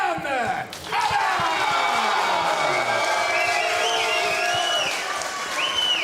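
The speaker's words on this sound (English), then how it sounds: "Your applause is for Soufyan Arab" A crowd at a fight league event bursts into loud applause and cheering, a dense sustained roar with a few sharp claps while an announcer's amplified voice rings out over it.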